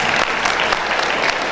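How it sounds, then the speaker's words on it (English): An audience at a university day event claps steadily, dense applause filling the whole moment without pause. "I think the people involved in this should be given a big hand of applause."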